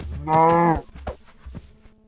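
A single loud, drawn-out Minecraft cow moo with a synthetic game-like quality, followed by a couple of soft thuds.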